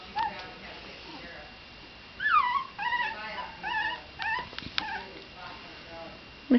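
Puppies whimpering and yipping in short, high, wavering cries, several in a row at close range over a quiet background.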